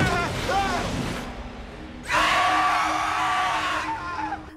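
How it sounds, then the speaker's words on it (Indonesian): A woman's loud, drawn-out scream in a horror story, shrill and wavering, sounding twice with a short gap between the cries. "Aogi berteriak sekencangnya minta bantuan namun berakhir sia-sia."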